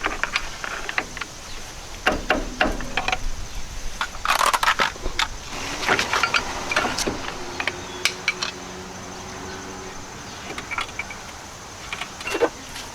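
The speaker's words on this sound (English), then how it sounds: "And pry this caliper off." A brake caliper is pried off the rotor of a Jeep Cherokee XJ with a stuck caliper, giving irregular close metallic scrapes, clanks and rattling tool contacts over a quiet workshop background.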